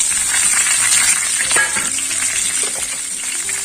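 Ground spice paste with lime leaves and bay leaves sautéing in a pan for intestine satay, a loud steady sizzle broken by scraping and clinking of a spatula, no talk.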